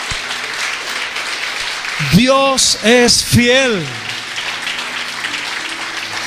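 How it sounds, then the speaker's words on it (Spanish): Audience clapping fills a church service, a steady wash of applause running underneath as a preacher speaks a short phrase over it. "dele un fuerte aplauso a Dios"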